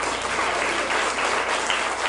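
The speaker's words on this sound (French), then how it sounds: "On peut les applaudir." Audience applause following thanks to members of a support association at an event, a dense, steady wash of clapping that holds loud and even throughout with no voices over it.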